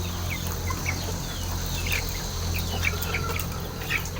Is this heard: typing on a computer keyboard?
no